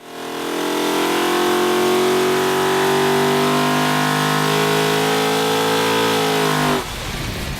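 A 1,000 horsepower naturally aspirated big block engine revs loud and close, holding a steady high roar with rising harmonics before dropping off sharply near the end.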